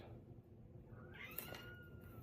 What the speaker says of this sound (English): You'll hear my cat crying. She wants in.